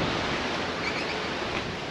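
Steady wind blowing outdoors at a Gladstone riverside, a constant broadband rush buffeting the microphone for two seconds with no other sounds.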